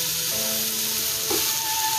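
Steady broadband sizzling of peppers frying in a hot pan, loud and continuous, with a faint clink partway through.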